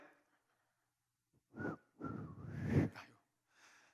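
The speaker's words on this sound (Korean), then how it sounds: "휘파람 불 줄 아세요?" A person whistles in a few short bursts, with breathy, uneven tones and pauses between attempts, close to the listener.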